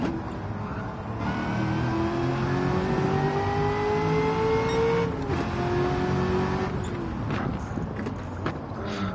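A racing engine in Gran Turismo 7 revs and climbs through gears, clutch slipped in second, pitch rising then dropping at shifts, with brief mechanical clunks and whooshes in a game-like mix.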